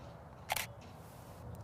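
A single-lens reflex camera clicks once as its shutter speed is adjusted, a brief sharp mechanical snap in a quiet room, followed by a faint softer click.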